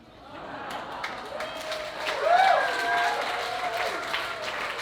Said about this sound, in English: don't applaud too long